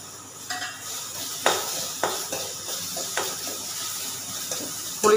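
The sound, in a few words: tomato and tamarind sautéing in a pan for cabbage chutney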